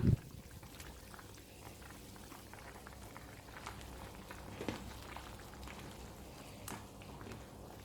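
A pot of Chettinad crab curry left uncovered to boil gives off soft, steady bubbling and popping, quiet and close, with small irregular plops over a low simmering hiss.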